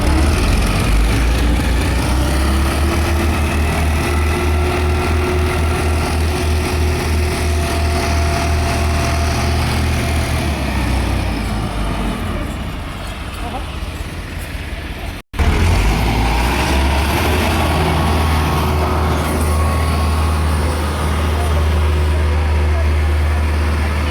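Tractors run hard in a head-to-head pulling power contest, their engines giving a loud, steady, close roar that holds almost the whole time, sags briefly and cuts out for an instant before surging back.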